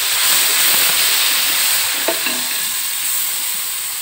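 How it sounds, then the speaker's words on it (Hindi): Minced garlic dropped into light golden onions frying in oil for capsicum chicken, a loud continuous sizzle and hiss with a brief stir or clatter midway, close by and without talk. "हमारी अनियन लाइट गोल्डन हो गई है, हम इसे इसमें पिसा हुआ लहसुन अदरक डाल देंगे"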